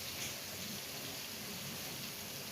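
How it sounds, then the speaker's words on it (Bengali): Marinated brinjal pieces frying in hot oil, giving a steady, dense sizzling crackle that stays even and fairly soft throughout with no voices. "মেখে রাখা বেগুন এবার তেলের মধ্যে ছেড়ে দেওয়া হয়েছে এগুলোকে ভালো করে ভেজে নিতে হবে"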